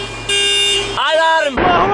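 Car alarm sounding on a farm, a brief wailing, rising and falling electronic tone, loud and close, with a rough noisy burst at the end and no clear speech.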